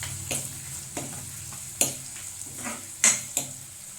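Turmeric sizzling in hot oil as a tempering for chicken curry, a soft, steady frying hiss broken by a few sharp clicks and scrapes of a spoon against the pan, close and moderately quiet.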